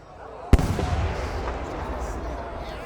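Exhibition shells at a U.S. fireworks championship show burst with one sharp loud boom, followed by a long rumbling, crackling tail that slowly fades.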